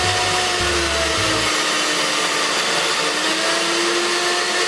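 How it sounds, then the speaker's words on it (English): An electric mixer whirs steadily while beating eggs until foamy for chile rellenos, a loud continuous motor drone throughout with a brief low hum at the start, no talking. "You're gonna start beating the egg"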